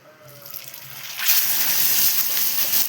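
Masala-stuffed fish goes into hot oil in a pan. The sizzle starts as a faint hiss, then swells a little after a second into a loud, steady frying crackle, with no talking.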